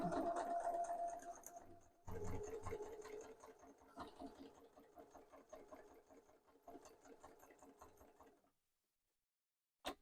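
A sewing machine stitches a zipper seam on a wallet, its needle running in a steady, rapid mechanical chatter that pauses briefly, resumes, and then stops into near silence.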